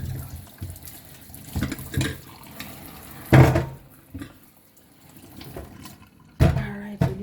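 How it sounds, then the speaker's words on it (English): Tap water running into a kitchen sink while Jamaican seasoning for Christmas jerk and roast is prepared, a low steady wash with louder splashing bursts near the start and end, under faint background talk. "Run water."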